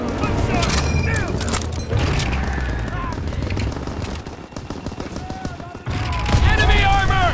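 Heavy WWII gunfire fills Hurtgen Forest in Germany, a dense, continuous fusillade of rapid rifle and machine-gun shots with booming blasts, loud and close, briefly easing before surging again, with shouted voices mixed in.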